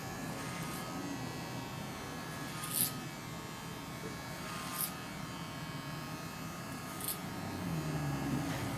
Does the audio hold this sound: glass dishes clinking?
no